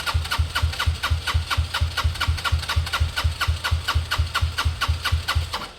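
A car engine cranks over and over with slow, steady rhythmic turning as a weak fuel pump slowly primes, loud and close throughout with no talk.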